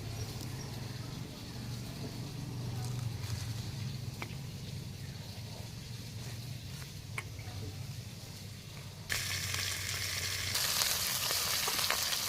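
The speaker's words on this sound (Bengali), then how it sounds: "মাছটা খুব ভালোভাবে ভাজা হয়ে গেছে" Fish fries with green chillies in hot oil, a steady close sizzle with occasional stirring clicks, then the frying surges louder and brighter near the end; a voice briefly talks over it.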